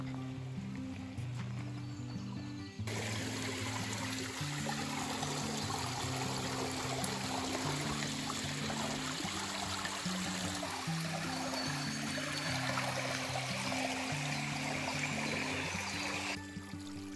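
A forest creek flows steadily beneath an old stone railway bridge in a wooded valley, a continuous soft rushing and trickling of water heard alone, with a low hum running underneath.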